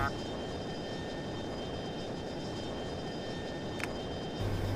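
An F-22 fighter's jet engine in the F22 Total Air War flight game gives a continuous roaring drone after breaking the sound barrier. It stays level throughout, with a brief high click near the end.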